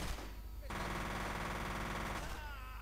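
Loud, continuous automatic gunfire from enemy soldiers in the shooter game F.E.A.R., a dense rapid burst lasting well over a second amid other in-game combat noise.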